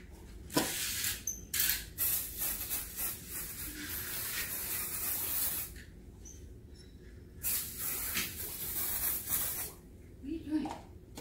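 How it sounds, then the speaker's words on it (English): Cleaner sprayed onto an altar during cleaning, heard as several short hissing spray bursts spaced across the clip, fairly close, with quiet handling sounds between. "Let's spray it down one more time."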